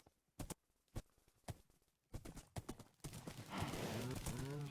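A horse's hooves clip-clop in the Minecraft video game as a run of sharp, evenly spaced clops. A louder, denser tonal sound follows and fills the final seconds.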